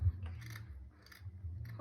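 Scissors cut through fabric along the neckline of a fitted cowl abaya dress, making three quiet, evenly spaced snips over a low background hum.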